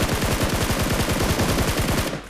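Rapid shotgun gunfire in the BGMI video game, a fast steady rhythm of loud close shots packed tightly together for about two seconds before cutting off.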